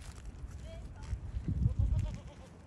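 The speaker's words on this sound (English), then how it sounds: "The goats are following us." Goats following people outdoors bleat faintly a few times amid rustling and footsteps, with people talking nearby.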